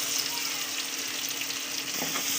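Sliced onions and whole spices fry in oil rendered from hilsa fish in a wok, giving a continuous dense close sizzle with light stirring and no talk.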